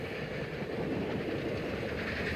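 Union Pacific Challenger 3985 steam locomotive, running as Clinchfield 676 on a Christmas excursion through eastern Kentucky coal country, rolls past in a steady, dense rumble of wheels and cars that holds at an even, close level.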